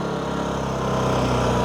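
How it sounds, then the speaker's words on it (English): A Powertech portable generator engine runs with its smart throttle off, giving a loud, close, steady buzzing drone at high revs that rises slightly toward the end. "I'll just show you the difference in the revs there without the smart throttle."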